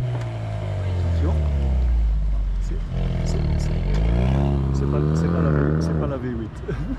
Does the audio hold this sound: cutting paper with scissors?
no